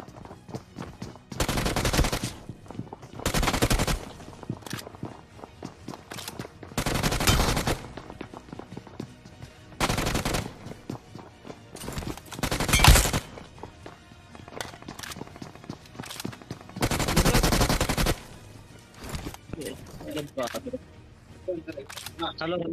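Gunfire in a BGMI (PUBG) apartment fight: loud, repeated bursts of automatic fire with short gaps between them, plus lighter clicks and shuffling footsteps in between.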